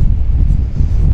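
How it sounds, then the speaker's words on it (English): Wind buffets the microphone on an ocean coast near Carilo, Argentina, a steady low rumble that fills the whole stretch without pause. "But so windy."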